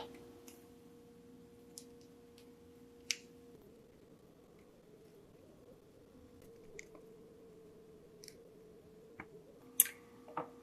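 Large pepperoni slices being cut up on a board, giving a series of sparse, sharp little clicks and snips spread across the stretch, fairly quiet and with no talking.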